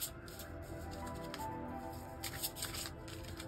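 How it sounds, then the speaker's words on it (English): A deck of cards is shuffled up close, a rapid riffle of crisp flicking bursts repeating in quick clusters, quiet and alone. "So next I'm gonna shuffle this deck"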